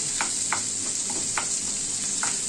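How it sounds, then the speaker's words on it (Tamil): Dried red chillies and onion sizzle in hot oil for a kara chutney, a steady close frying crackle with occasional stirring scrapes. "இப்போது லைட்டாக அந்த வரமிளகாய் வறுப்பட்டுருச்சு"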